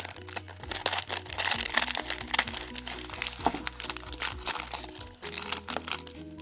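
A plastic bag from a Lego advent calendar is cut and torn open, giving close, continuous crinkling and crackling with sharp irregular crunches throughout.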